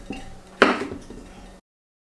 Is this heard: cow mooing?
no